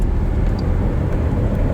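A Lamborghini Huracan on a track day drones with a loud, steady low exhaust note for under two seconds, with no voices over it.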